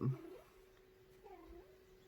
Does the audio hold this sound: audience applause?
no